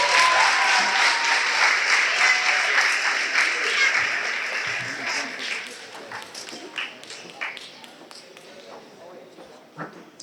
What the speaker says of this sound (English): round of applause for your Healey volleyball team.